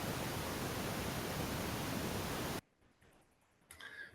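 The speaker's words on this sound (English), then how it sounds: "The pink noise block generates pink noise." Steady pink noise from a synthesized noise generator block hisses loudly and evenly for a couple of seconds, then cuts off abruptly into near silence with a faint blip at the end.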